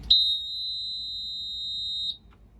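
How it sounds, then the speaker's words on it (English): A Suzuki outboard boat engine's keyless start system gives a single steady high-pitched electronic beep that holds for about two seconds, then cuts off, leaving faint low background rumble. "just hold down that button until the beeping stops"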